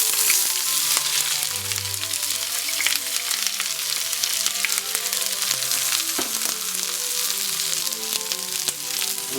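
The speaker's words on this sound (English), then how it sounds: "I'm adding some clarified butter that I made. Turn down the heat a bit. And we'll add onion." Onion fries in homemade clarified butter over lowered heat, making a close, dense crackling sizzle with frequent sharp pops and light stirring clatter throughout. No talking.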